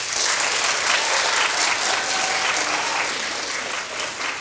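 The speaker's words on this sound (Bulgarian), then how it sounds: "Моля на вашето внимание силни аплодисменти за актьорите." An audience at a chamber ensemble's performance of Prokofiev's Peter and the Wolf gives the actors loud, sustained applause, a dense wash of many hands that fills the hall and eases off slightly toward the end.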